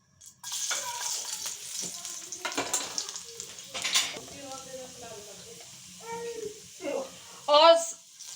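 Cumin seeds sizzling and frying in hot ghee with green chillies, garlic and ginger for a restaurant-style mixed daal, a steady crackling hiss with stirring clatter and a person talking over it.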